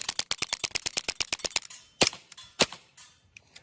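An airsoft gas gun fires a rapid string of sharp cracking shots in quick succession, then a few slower, louder single pops, close and loud.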